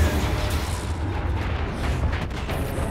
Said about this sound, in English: Cannon fully charged, sir.